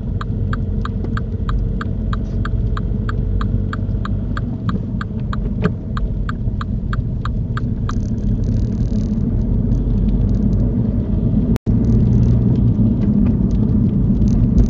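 A car engine rumbles low and steady as it pulls off during a driving lesson near a roundabout, a rapid ticking indicator clicks over it in the first half, and no voices.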